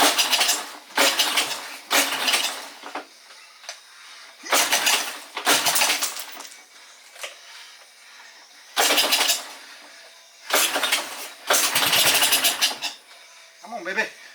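A small engine, likely on a Simplicity 5116 garden tractor or Honda ATC, is cranked repeatedly after a choke adjustment: a series of short, loud starter-and-sputter bursts separated by quiet gaps, with a faint voice briefly between attempts.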